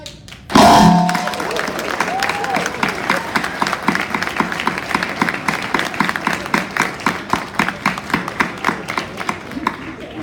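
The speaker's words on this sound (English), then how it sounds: "So please applaud." Audience at a provincial election debate event applauding: after a short loud bump at the start, a crowd claps steadily, the sharp individual claps spacing into a rhythmic patter that carries on for about ten seconds.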